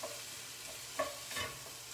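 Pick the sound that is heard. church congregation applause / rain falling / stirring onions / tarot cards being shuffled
stirring onions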